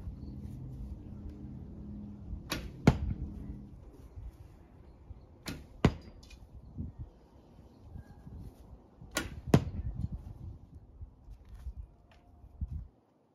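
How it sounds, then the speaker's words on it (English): Arrows loosed from a handmade longbow at a tin can give three pairs of sharp snaps and thuds spaced a few seconds apart, crisp and close against a quiet outdoor background. "So I'll keep taking a few shots here"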